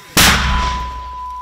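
A Ukrainian mortar crew fires a shot in Donbas: one sudden, loud, close boom that decays into a long rumbling tail, with a steady tone running underneath.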